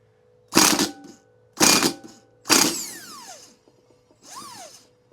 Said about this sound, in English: impact gun,